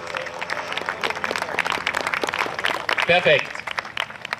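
Audience at an Aerial GP Austria air show applauds a passing pilot's display, a steady spatter of clapping running beneath a man's continuous announcing.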